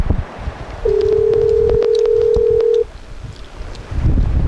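Touch-tone telephone keypad being dialed to call someone back, a steady tone lasting about two seconds with quick key beeps over it, set against light background hiss and rustle, with no one talking.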